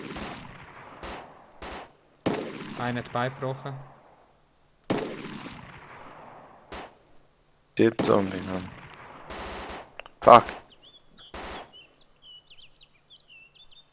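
Gunfire in the video game DayZ as a player shoots zombies: several sharp bursts and single shots spread across the clip, mixed with game ambience and excited talk in German.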